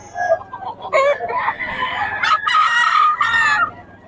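A pumpkin sweater gamefowl rooster crows loud and close, giving a drawn-out, strained call that rises and breaks into several sections, with some clucking mixed in.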